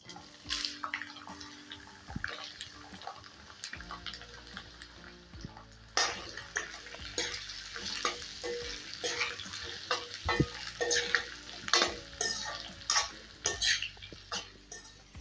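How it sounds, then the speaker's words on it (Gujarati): Oil sizzles quietly in a pan as ivy gourd fries, while a utensil scrapes and stirs now and then, producing intermittent clinks and bursts of frying noise. "હવે એ જ તેલમાં આપણે ટીંડોરા છે એને પણ તળી લેવાના છે"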